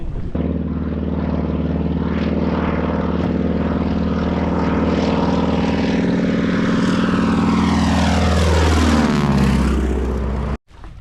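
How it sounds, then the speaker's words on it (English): A loud float plane's propeller roars steadily nearby as it takes off, its engine drone shifting in pitch as it passes and pulls away. "There goes our float plane"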